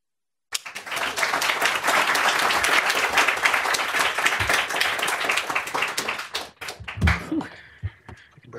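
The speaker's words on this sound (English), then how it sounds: "Let's just give another round of applause." An audience at a design talk breaks into dense, sustained applause that starts abruptly, holds steady for several seconds, then thins out with a few scattered claps and brief voices.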